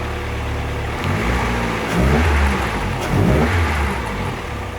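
A turbocharged D16 engine in a Honda Civic EJ8 build revs up twice from a steady idle, loud and close, with rising surges of roar and no talk.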